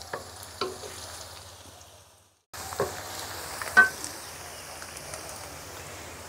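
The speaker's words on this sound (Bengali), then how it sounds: "আমার পেঁয়াজটা ভাজা হয়ে আসছে" Onions frying in a pan before spices are added for a village chicken curry with turnip and potato, a steady close sizzle with occasional stirring scrapes, briefly cutting out partway through.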